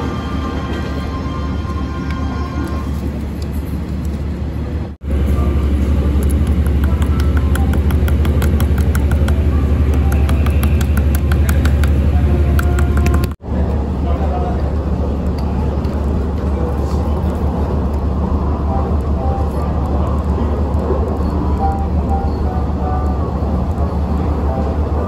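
A Japanese diesel railcar train rumbles steadily through Yashirodai Station with a low continuous roar and rattling, the noise briefly cutting out twice, as if passing through at speed.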